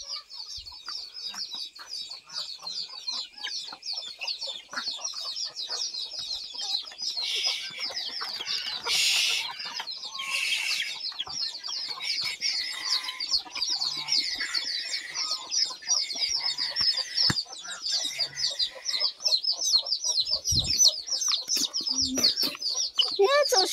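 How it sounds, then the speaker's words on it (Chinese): Many chickens clucking and chirping steadily while feeding, a dense continuous chatter of small bird calls nearby with occasional louder squawks and faint background noise. "这个小鸡是怎么吃进来的？"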